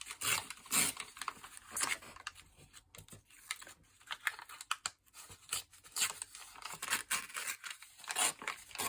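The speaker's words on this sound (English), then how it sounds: "I'm going to have to try and rip as best I can." Paper being ripped by hand for a junk journal topper, a run of dry tearing and crinkling bursts in short irregular strokes, close up and fairly quiet, with no talking.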